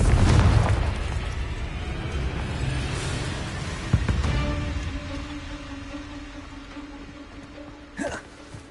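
A Confringo spell in Hogwarts Legacy sets off a loud, close blast that rolls into a fading rumble, followed by a sharper boom and later a brief pop.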